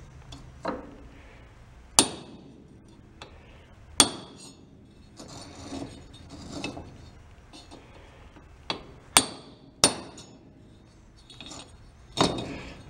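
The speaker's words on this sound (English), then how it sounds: "A couple whacks with a chisel should do it." A hammer strikes a chisel on a John Deere part in a workshop, about a dozen sharp metallic clinks at an irregular pace, close and clear with no talk.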